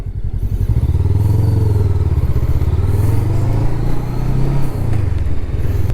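A Voge 500 R motorcycle riding on the road, its engine droning loud and steady throughout with rising and falling pitch as the revs shift, plus some rumble of wind and road.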